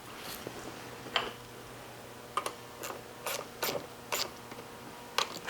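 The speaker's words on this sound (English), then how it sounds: "let's go ahead and bolt the top to the bottom and get it installed" Bolting the top of a 1966 Volkswagen Beetle front seat to its base, a series of faint metallic clicks, ratcheting ticks and creaks at irregular intervals, close but quiet over a low background hum.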